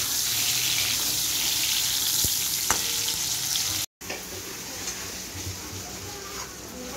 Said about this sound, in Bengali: পটলগুলো আমি এখানে সুন্দর করে ভাজতে প্রথমে দিয়ে দিয়েছি।